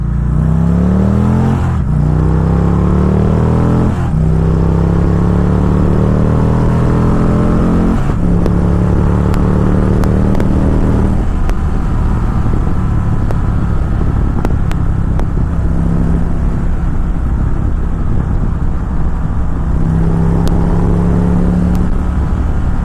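A 2017 Victory Magnum motorcycle engine, loud and close, revving up repeatedly through rising whines and shifting as it accelerates, with a deep continuous rumble throughout and no talking.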